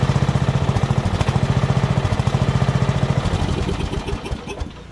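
Repowered Craftsman LT1000 lawn tractor with a flathead engine running close by, a loud steady chugging putter with a fast even firing rhythm that loosens and fades slightly near the end.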